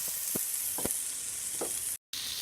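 Mashed and chopped potatoes with spices are stirred in a sizzling pan, a steady soft fry with three quick scraping strokes of the spoon and a brief dropout near the end.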